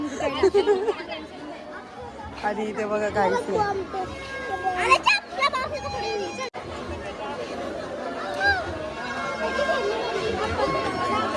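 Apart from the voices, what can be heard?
crowd chatter at a busy village fair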